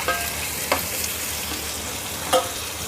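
Chopped tomatoes fry in a pan for a paneer sabzi, giving a steady close sizzle with a few brief stirring clicks.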